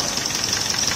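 A GMC Epica six-cylinder engine with a fault runs steadily at close range, giving a continuous, loud mechanical hum with a fine rapid clatter and a high whine throughout.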